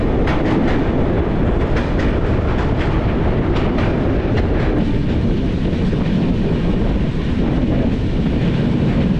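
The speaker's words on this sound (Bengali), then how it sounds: "কটক থেকে আমাদের ট্রেন কিন্তু ছেড়ে দিল যথাসময়ে" A passenger train runs between Cuttack and Bhubaneswar, its wheels rumbling steadily with loud, close clickety-clack and rattling from inside the moving carriage.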